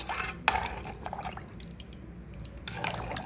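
Water splashes and trickles as it is poured into rice and toor dal for khichdi in a pressure cooker, with soft dripping between two brief louder pours at the start and end.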